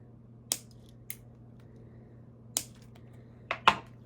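Cutting the tag end of a fishing line on a steelhead float setup, heard as several sharp, crisp snips, about five quick clicks spaced irregularly over a few seconds, close and alone against a quiet background.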